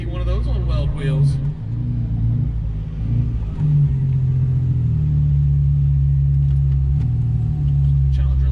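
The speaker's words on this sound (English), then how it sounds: "Series 1 BMW rolling around the tower again. Not every day you see one of those on weld wheels." A Series 1 BMW on Weld wheels rolls past at a street car takeover event, its engine giving a steady low rumble with brief revving early on, loud and close throughout.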